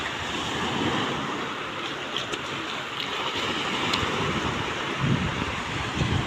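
Sea waves wash onto a beach with clear blue water as a steady, full surf roar with faint wind, continuous and close, no voices.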